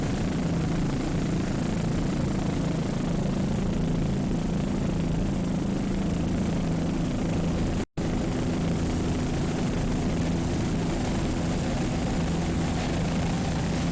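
Twin Mercury 2.5 outboards on a 30-foot AMT and 420-horsepower Yanmar diesels on a 42-foot Fountain race off Deerfield Beach, a steady loud engine drone with a brief dropout partway through.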